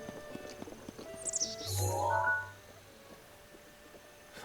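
A horse in Zelda: Breath of the Wild gives a brief whinny with soft hoof sounds around it, set against quiet game ambience with no talking.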